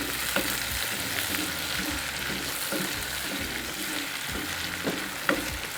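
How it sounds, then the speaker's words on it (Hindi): Chopped tomato frying in a pan of ground-meat-style curry while a spoon stirs it, a steady close sizzle broken by repeated scraping and clinking strokes, no talk. "इसको 2 मिनट तक फ्राई करें।"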